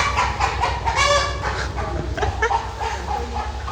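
Chicken-like clucks and cackles from a rooster come in short bursts over a constant low engine-like rumble.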